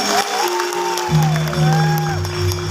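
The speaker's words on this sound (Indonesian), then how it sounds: "Tepuk tangan untuk muslimat" An audience at a Nahdlatul Ulama anniversary gathering applauds the Muslimat women's organization, a crowd-wide hiss of clapping beneath sustained music with sliding melodic tones.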